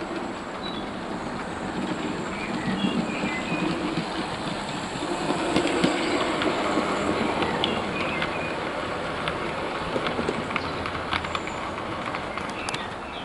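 Two Hornby Terrier model locomotives run with OO gauge coaches on a model railway track, giving a continuous whirring motor hum with light rhythmic wheel clicks, steady and moderately close.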